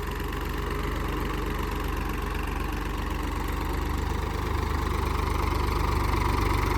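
A 39 to 42 HP tractor engine runs at low RPM with two levers down, a steady, close idling drone with a faint knocking pulse that holds constant throughout.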